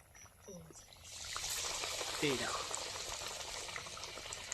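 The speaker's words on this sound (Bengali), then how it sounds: "এখন তেল গরম আছে এখন ঝপঝপ করতে হবে" Potato chops dropped into hot oil in a village kitchen, a steady bubbling sizzle that swells after the first second and holds, close and moderately loud, with brief voices over the frying.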